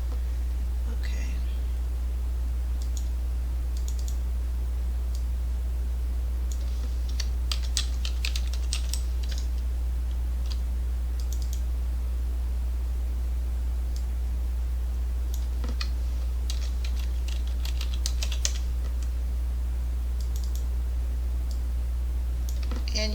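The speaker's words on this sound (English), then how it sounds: "Keyboard letter is sticking." Steady typing on a computer keyboard with a sticking letter key, soft irregular clicks and taps over a constant low hum, with occasional faint whispered speech.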